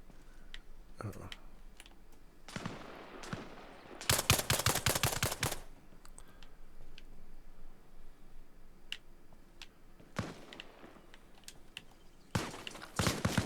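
Burst-fire gunshots from the video game Arma Reforger crack out in several separate rapid volleys, one longer cluster standing out, over a quiet background with faint clicking.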